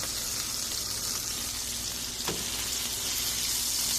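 Wagyu burgers sizzle on a hot griddle in a constant loud hiss, with one brief scrape as a patty is flipped.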